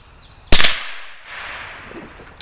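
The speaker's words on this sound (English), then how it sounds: "now we're going to be doing the penetration test with the Marlin Model 60, and we're going to be shooting in the near the top right corner" A single sharp shot from a Marlin Model 60 .22 caliber rifle fired into a pan during a penetration test, a loud close crack with a short decaying tail and faint background after.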